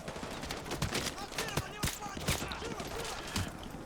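Enemy gunfire in Call of Duty: Modern Warfare 2 Remastered crackles as scattered shots and short bursts, moderately loud against a noisy battle backdrop, with talk over it.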